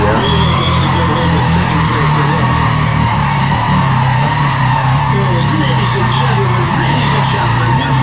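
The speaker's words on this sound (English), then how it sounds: "Just listen to the raw madness of that engine" A loud, continuous roaring race car engine in Need for Speed ProStreet, with tire squeal and skidding, constant and close throughout, with voices occasionally mixed in.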